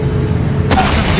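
Bombarda spell explosion in Hogwarts Legacy: a single sharp, loud burst cuts in partway through after steady game ambience, followed by a short decaying rumble.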